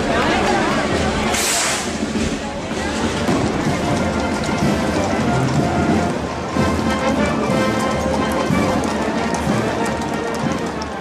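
Steady rain falls on village streets during the El Rocío pilgrimage in Huelva, a dense continuous wash of drops with crowd voices and distant movement mixed underneath throughout.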